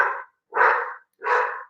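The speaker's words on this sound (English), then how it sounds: "I don't know what the hell he's barking at." A dog barks outdoors at night, three loud, separate barks with short pauses between them, close by and with no talk.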